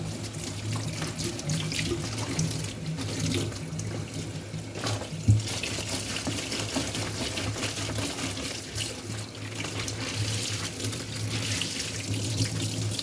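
Tap water runs steadily into a sink while laundry is rinsed by hand, a continuous close splashing flow with a brief knock partway through.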